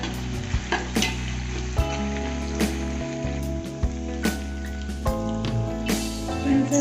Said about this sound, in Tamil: இதில் பச்சை பட்டாணி 1 கப் போட்டுக்கலாம். அதுவும் போட்டு நல்லா ஃப்ரை பண்ணுவேன்.